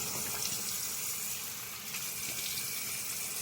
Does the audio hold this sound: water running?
yes